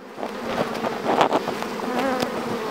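Honeybees buzzing steadily at a traditional log hive (karakovan) during a honey harvest, a dense close swarm drone with individual bees flitting past the microphone, no talking.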